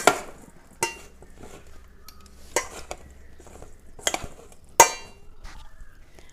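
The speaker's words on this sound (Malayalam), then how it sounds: "എല്ലാം കൂടി നന്നായിട്ടൊന്ന് മിക്സ് ചെയ്യാം" A spoon stirring a jackfruit mixture for nadan chakkapuzhukku in a pot, five or six separate clanks and scrapes against the metal spaced across a fairly quiet background.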